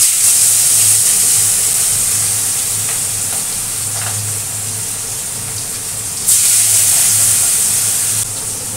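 Katla fish frying in hot oil in a wok, giving a steady, loud sizzling hiss that swells sharply near the start and again later, with no talking.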